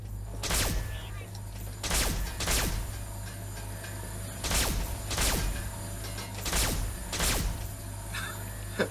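Energy-weapon gunfire in Fallout 3's Mothership Zeta, with sharp bursts repeating every second or so against a steady low hum and light background noise.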